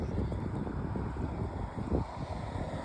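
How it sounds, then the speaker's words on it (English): Strong outdoor wind on a cool evening, a steady low rushing roar with buffeting gusts against the microphone, loudest near the two-second mark, with no other sounds. "The wind's blowing harder"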